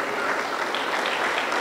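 A church congregation at a Wednesday service applauds, a continuous, fairly loud rush of clapping lasting under two seconds.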